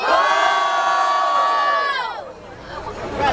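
At a rap battle in Barueri, São Paulo, a crowd roars and shouts together in a loud, sustained cheer that fades out after a couple of seconds, leaving scattered voices.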